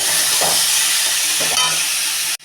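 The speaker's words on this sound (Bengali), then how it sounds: "জিরেটা যখন লাল হয়ে গেছে আমি ঢেলে দিচ্ছি পুরো সবজিটা।" Boiled vegetables tipped into hot oil with reddened cumin seeds set off a loud, steady sizzle and hiss, with a couple of soft stirring scrapes before it cuts off abruptly at the end.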